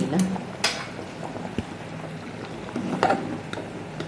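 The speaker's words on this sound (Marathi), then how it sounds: "चांगली उकळी आली आहे" Thick fish curry bubbling and simmering in a pot, with soft irregular pops and a few sharper clinks, close by and fairly quiet.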